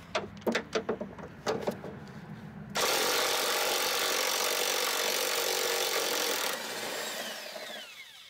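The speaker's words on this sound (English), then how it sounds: "picked up the half inch impact wrench here" A half-inch impact wrench removes bolts while installing a trailer hitch: a few sharp clanks first, then a loud continuous burst of hammering for about four seconds, easing to a lower whir and stopping.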